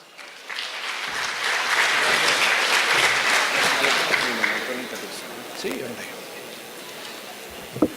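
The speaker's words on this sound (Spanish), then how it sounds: "Lo recibimos también con un aplauso, por favor." Audience applause at a congress welcoming a speaker, dense sustained clapping that swells, holds for several seconds, then thins out toward the end.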